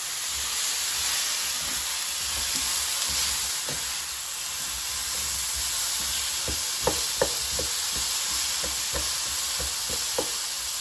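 Asparagus sautéing in a stovetop skillet gives a steady, loud sizzle and hiss, broken by a scatter of sharp scraping clicks as the spears are stirred partway through cooking; no voices.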